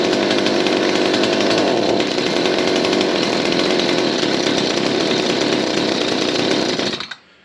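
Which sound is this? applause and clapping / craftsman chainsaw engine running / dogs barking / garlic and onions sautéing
craftsman chainsaw engine running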